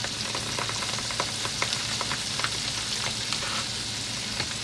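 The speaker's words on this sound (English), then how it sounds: "let me add some butter to the pan" Butter sizzles and crackles in a hot pan for a grilled cheese sandwich, a steady close frying hiss dotted with small pops.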